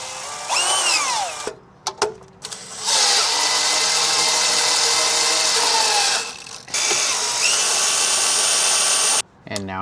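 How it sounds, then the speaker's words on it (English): A power tool sets a rivet nut into a through hole in a bracket during a brake line build. It comes as loud sustained whirring bursts broken by brief pauses and clicks, with a voice heard at the start. "And now I've turned that through hole into a threaded hole."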